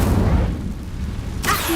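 Incendio fire spell cast in Hogwarts Legacy: a deep booming rumble that fades, then a sudden bright burst of flame near the end.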